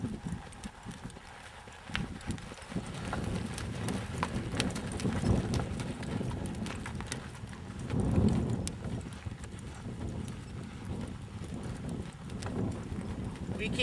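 Steady clip-clop of a ridden horse's hooves in a rhythmic walking beat, moderately close, with wind rumbling on the microphone and a rider talking at times.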